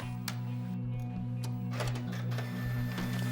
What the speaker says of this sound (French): Clique sur imprimer.